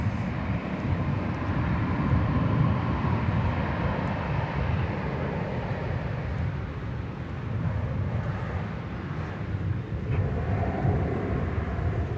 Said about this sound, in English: Here goes Flight 1215 off to Puerto Vallarta, Mexico.